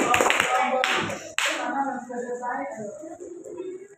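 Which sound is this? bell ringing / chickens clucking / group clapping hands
group clapping hands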